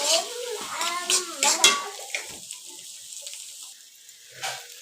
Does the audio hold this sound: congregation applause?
no